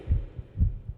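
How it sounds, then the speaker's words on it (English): A heartbeat sound effect from the horror video game Lunch Lady thumps twice in a deep lub-dub rhythm, low, close and steady, with nothing else over it. "My heartbeat."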